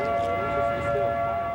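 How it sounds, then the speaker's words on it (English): Tornado warning sirens blare during a twister, a steady, wavering wail with sustained tones carrying loud and unbroken and no voices over it. "The sirens blare"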